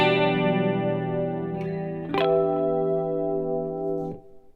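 Clean electric guitar through an HX Stomp with reverb and delay rings out in sustained chords and a few picked notes, each attack trailing into a shimmering wash of echoes and reverb before fading at the end.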